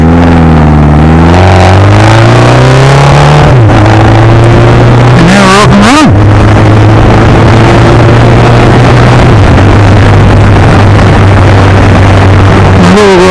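A freshly rebuilt 1200 engine runs loud and close on a shakedown ride, its steady drone climbing in pitch through gear changes, dipping briefly near the middle and then settling into a constant cruising hum, with faint talk beneath.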